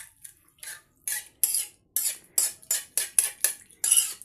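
Vegetable soup stirred in a pot, a series of short metallic scraping strokes about a dozen times in a quick irregular rhythm, close and otherwise silent.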